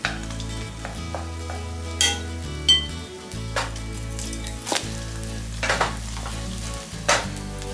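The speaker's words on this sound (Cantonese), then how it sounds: "跟住我哋呢煎到2面都金黃色" Egg cake with Japanese eel pan-frying until golden on both sides, a steady sizzle with occasional clinks and scrapes of a utensil against the pan, all under continuous background music.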